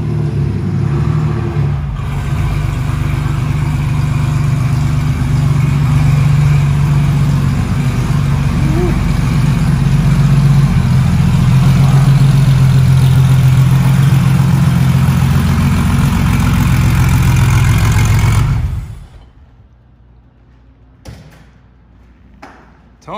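A 1987 Porsche 911 engine idles steadily and loudly for about eighteen seconds, a continuous low rumble that then cuts off abruptly, leaving near silence with a few faint knocks.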